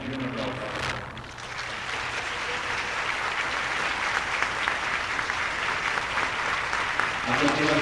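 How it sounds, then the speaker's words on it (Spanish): Audience applause at a 1996 gathering in Mexico honoring Srila Govinda Maharaja, a broad steady wash of clapping from a crowd lasting several seconds, with a voice speaking briefly at the start and again at the end. "Para que nos den un aplauso"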